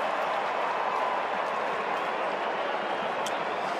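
The home crowd at an Adelaide Strikers versus Sydney Thunder Big Bash cricket match applauds and cheers after a not-out decision, a steady, distant wash of clapping and crowd noise that holds evenly throughout.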